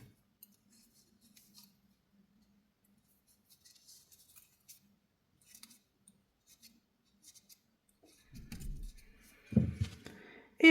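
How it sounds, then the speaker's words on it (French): Scissors snip green yarn during amigurumi crochet work, a few quiet clicks and small metallic sounds in a mostly silent room, followed by louder handling noises near the end. "le fil vert, je le coupe"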